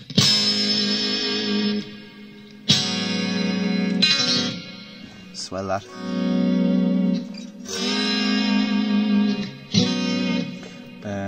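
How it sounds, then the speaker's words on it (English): A Line 6 Helix double tank reverb effect washes over electric guitar chords and notes, each strike blooming into a long, shimmering reverberant tail, loud and alone with one brief spoken word. "So this is the double tank reverb first."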